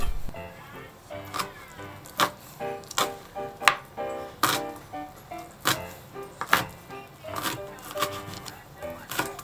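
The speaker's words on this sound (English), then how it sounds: "Chop them finely." Knife chopping boiled spring herbs finely on a cutting board, a steady run of sharp close taps repeating about every half second, alone without talk.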